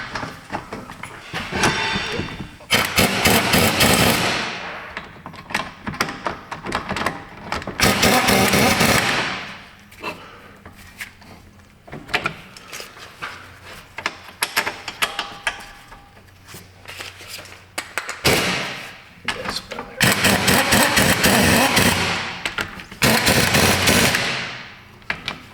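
An impact wrench on its lowest torque setting tightens lug nuts during a brake job. It comes as several loud, sustained rattling bursts of a few seconds each, with quieter workshop noise in the gaps between them.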